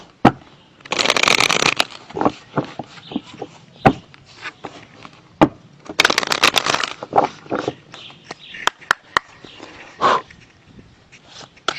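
Tarot cards are cut and shuffled close up, with two bursts of rapid riffling separated by scattered sharp taps and clicks of cards being handled.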